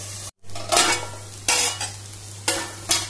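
Shrimp cooking in a pan over a low flame gives a soft sizzle under several distinct stirring scrapes and clinks of a utensil against the pan, coming in separate bursts about a second apart, with a low steady hum beneath.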